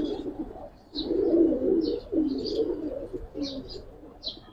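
Giribaz and coloured pigeons in a loft give repeated low, rolling coos, close and clear, with occasional soft higher chirps and wing or body rustles between calls.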